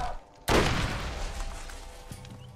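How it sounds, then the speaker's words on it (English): Explosions and gunfire from the video game Borderlands: a sudden loud blast after a brief lull, followed by a rumbling, crackling decay with scattered pops and a faint voice underneath. "Explosions!"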